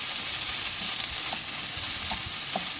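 Garlic egg fried rice with soy sauce stirred in a hot pan makes a constant dense sizzling hiss, with a few soft scraping strokes of the spoon surfacing now and then, close and unaccompanied by voices.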